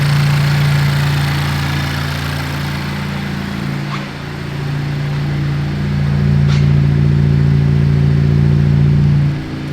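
A wrecked 2019 Honda Civic Type R engine idles steadily with a low hum and faint vibration, close and continuous, with a slight dip in level midway and a couple of brief clicks.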